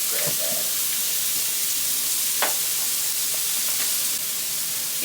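Steak seasoned with pepper sizzles steadily in a hot pan, a continuous bright frying hiss with a few sharper crackles and pops throughout, close and fairly loud with no talking.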